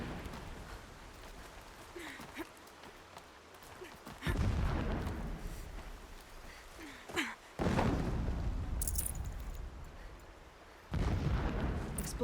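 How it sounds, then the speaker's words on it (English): Several deep distant explosions in the video game Horizon Zero Dawn erupt at intervals, each a heavy rumbling blast that lingers and fades, with quieter stretches between them. "Explosions in the distance."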